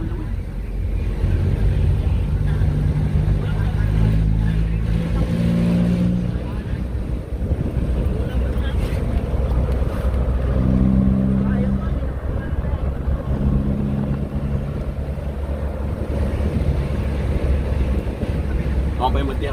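Motorboat engine running steadily on the Ilocano River near Duplas, San Juan, La Union, a continuous low drone with wind buffeting the microphone and people talking over it.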